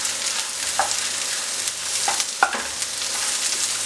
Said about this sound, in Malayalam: ഈ വറ്റൽ മുളകും ഉള്ളിയും വെളുത്തുള്ളിയും എല്ലാം നല്ലതുപോലെ ഒന്ന് മൂപ്പിച്ചെടുക്കണം